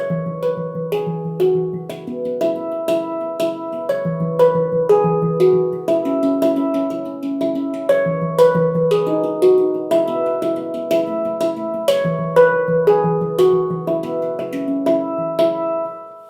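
A steelpan-like handpan plays a lively, steady rhythmic pattern of ringing metallic tones, low notes alternating with higher ones, close and clear without any voices.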